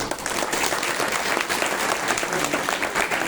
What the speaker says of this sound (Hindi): आप दिल खोल करके ताली बजा दें